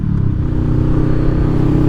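Loud, close motorcycle engine rumble from a passing Honda Rebel, a deep throbbing exhaust note that stays steady and strong throughout, with no voices over it.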